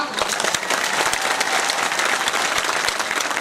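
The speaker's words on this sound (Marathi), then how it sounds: "पण तुमच्या सरपंचासाठी पहिले टाळ्या वाजवा" A large crowd applauding at a Hindu Jan Aakrosh Morcha rally in Dhotre, dense continuous clapping that stays loud and even throughout.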